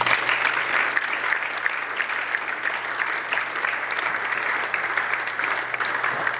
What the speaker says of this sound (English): give Glenn a big round of applause